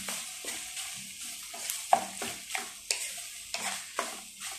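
Ingredients being crushed and stirred in a bowl for homemade sushi, a series of soft, scraping, crunchy strokes in an irregular rhythm, close and fairly quiet, without speech.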